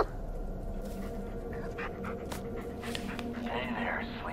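Dog panting in the Blair Witch video game, a steady breathy rhythm running through the clip with faint whimpers, heard close against a low ambient forest drone.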